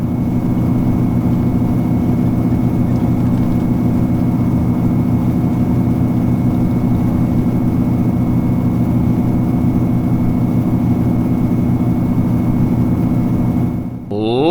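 A Carenado SR22 single-engine propeller plane in X-Plane 11 throttles up for takeoff, its loud, steady low engine drone running unbroken until it cuts off abruptly at the end, with no voices.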